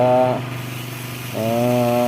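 A drill bores holes in a KLX motorcycle clutch plate: two sustained whining motor bursts, near and loud, with a short pause between them.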